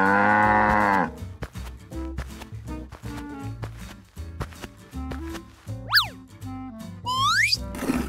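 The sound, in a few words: cows mooing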